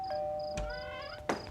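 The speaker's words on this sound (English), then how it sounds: "there was still one more bell to ring" A doorbell rings on Halloween night in an animated children's show, its electronic tones chiming repeatedly over a quiet background, with a couple of sharp knocks or thumps nearby.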